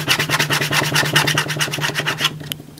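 A lottery scratch card being scratched briskly, a rapid, even rasping of strokes close to the microphone that stops abruptly near the end, with no voices.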